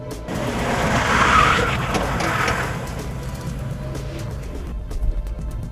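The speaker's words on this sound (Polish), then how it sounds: "Te małe kółka sprawiają, że tył pojazdu strasznie nam ucieka. Symuluje to uślizg tylnej osi." A car fitted with small trolley wheels on the rear axle slides through a simulated rear-axle skid during driver skid training, with a sustained tire squeal and engine noise that swell loud early, then ease into a rougher rolling rumble.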